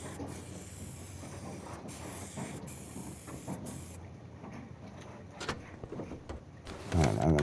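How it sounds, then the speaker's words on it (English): Spray painting car parts in the video game Car Mechanic Simulator 2021, repeated bursts of airy spray hiss broken by short gaps, followed by a few quieter sprays and a louder clattering sound at the end. "now we're going to go back over here and respray it this color again"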